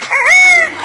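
A pet bird imitates a rooster crow on cue, a single short, loud, drawn-out call close to the listener.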